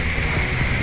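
Steady rain falls in the countryside at Taman Sari, Wongaya Gede, Bali, a dense, even hiss that carries on unbroken and fairly loud, with no voices.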